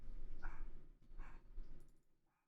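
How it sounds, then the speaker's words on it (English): A pet dog indoors gives a few short barks mixed with high whimpers and yips, close by and moderately loud, in uneven bursts before fading to quiet. "my dog is freaking out"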